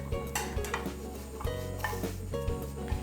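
Shiitake mushrooms are tossed and stir-fried in a pan, with repeated scraping and clinking of a utensil against the pan over a soft sizzle, close and steady with no talking.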